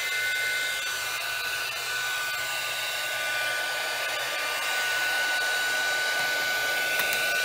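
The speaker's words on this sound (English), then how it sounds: "It's going to get loud and I'm going to heat emboss this." Heat gun warming embossing powder on a greeting card, giving a loud, steady blowing roar with an electric whine that holds unbroken throughout.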